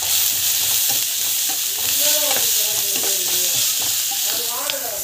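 Rice mixture for mango rice sautéing in a pan, with asafoetida and salt, giving a steady close sizzle broken by scraping stirs of a spoon against the pan.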